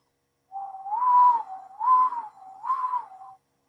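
Three rising-and-falling whistled notes in a row, clear and close, each swooping up to a higher pitch and back down, with no talking.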